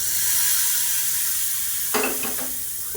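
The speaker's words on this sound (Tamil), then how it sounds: "உளுந்து, கருவேப்பிலை, பெருங்காயம் தாளித்து கொட்டிக்கலாம்." Mustard seeds, urad dal, curry leaves and asafoetida sizzle in hot oil as a tempering for tomato kara chutney, a steady close frying hiss with a brief burst of crackling and stirring partway through.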